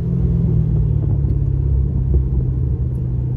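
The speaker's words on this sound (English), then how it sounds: "Beautiful brand new LS3 crate motor." Brand-new LS3 crate V8 swapped into a Saturn Sky gives a steady, loud low rumble at idle, constant and close with no voices over it.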